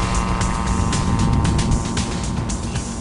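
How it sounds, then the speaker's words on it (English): Benson autogyro engine driving a pusher propeller at the rear, a steady loud droning buzz with propeller hum, continuous and close with no talking. "It has a pusher propeller in the back"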